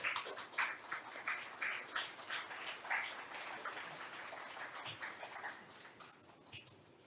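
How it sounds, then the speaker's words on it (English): A round of applause from an audience at a youth international forum on global citizenship education, faint and distant, with scattered claps tapering off over several seconds. "Why don't you give them another big round of applause,"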